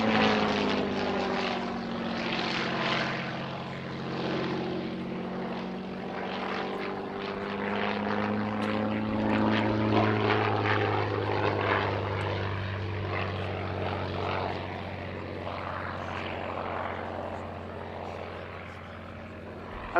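A Hawker Fury Mark I biplane with a 525 horsepower supercharged Rolls-Royce Kestrel V12 piston engine flies past at an air show at RAF Cosford, its loud droning engine note rising and falling in pitch as it passes.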